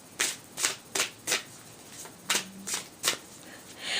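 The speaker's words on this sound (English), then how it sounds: "shuffle these a few more times" Tarot cards are shuffled by hand in a quiet room: about eight brisk, crisp riffles in an uneven rhythm, close and clear with no talk.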